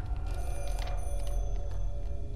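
A telephone rings in a horror video game, a thin electronic ringing tone repeating in short pulses over a steady low hum, with no talk.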